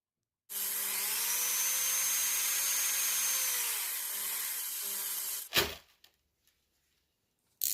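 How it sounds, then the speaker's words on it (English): A steady power-drill whir runs for several seconds as it reverse-twists internet cable wires straight, pitch sliding slightly as it spins, then stops with a clunk and rattle. "clamp the other end into a drill. Then I reverse the twist until the wires become straight"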